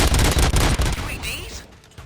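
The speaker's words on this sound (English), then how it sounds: "Gunshots? What's going on?" Gunfire in the Robocop: Rogue City video game: rapid, dense bursts of shots crowd the first second, then fade into quieter rumbles and game effects.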